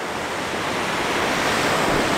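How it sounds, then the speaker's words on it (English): Seaside waves breaking by a breakwater, a dense, steady wash of surf roar mixed with some wind, fairly loud and continuous without talk. "we've got some waves, we've got a breakwater"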